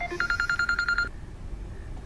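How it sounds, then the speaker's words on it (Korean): Telephone dialing tones in a film: a quick run of about ten short, evenly spaced touch-tone beeps, clear and close, stopping abruptly and leaving near silence. "그러다 어느 날 밤 넬은 아빠에게 전화를 합니다."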